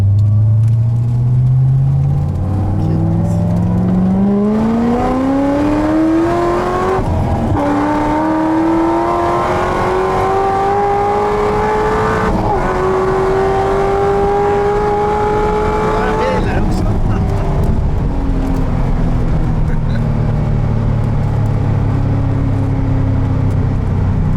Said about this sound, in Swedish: Aventador S versus Corvette ZR1 Lingenfelter